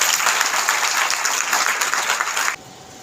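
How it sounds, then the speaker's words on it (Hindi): Loud, dense audience applause fills a seminar hall, steady for over two seconds before cutting off abruptly into quiet room tone. "तो इसके लिए एक बार जबरदस्त ताली।"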